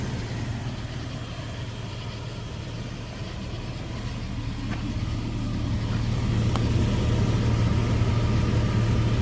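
A Ford-built 4.0 V6 engine in a Land Rover idles steadily after an upper oil pan gasket repair, a smooth, even low hum that swells slightly louder partway through, with no talking.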